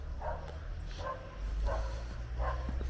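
A dog barks repeatedly outside a dog-friendly hotel, a steady series of four mid-distance woofs over a low outdoor rumble.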